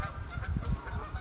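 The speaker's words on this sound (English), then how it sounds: "Geese are going on about something down there." Faint honking of geese in the distance, a few scattered calls over quiet outdoor background.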